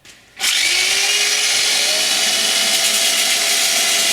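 A power sander removes a paint base and excess filler from a surface ahead of a polyurethane coat. After a brief quiet moment it starts abruptly, a loud, steady whirring buzz with a rising spin-up tone, running continuously to the end.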